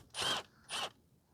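A Torx T30 bit turns out a brake rotor bracket bolt on a 2014 Chevrolet Sonic 1.8 during front brake service, giving two short, close ratcheting zips separated by a brief pause.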